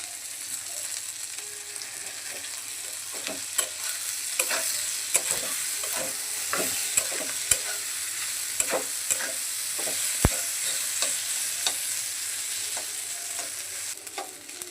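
Potato, vegetable stalks and singi fish roe fry in a pan, giving a continuous close sizzle broken by sharp scrapes and clacks of stirring at an irregular pace.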